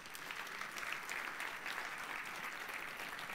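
Sustained applause from an audience at a national vocational school competition, a steady wash of clapping throughout.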